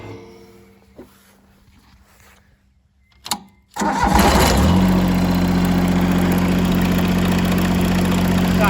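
A 1988 John Deere 332 diesel lawn tractor is started after a few quiet clicks and a short crank. The engine catches abruptly into a loud, steady, rumbling diesel idle close by.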